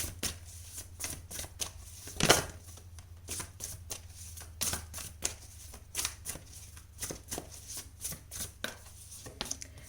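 Tarot cards drawn and handled during a pick-a-card reading: close, crisp card snaps and shuffling flicks in irregular bursts, with one louder riffle near the start and no talking.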